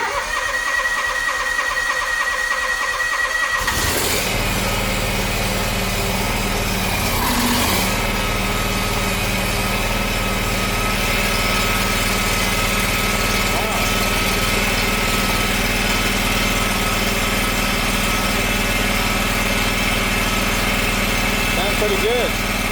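A Kawasaki engine on a Gravely mower cranks and fires up, then runs at a loud steady idle with a constant mechanical drone close by.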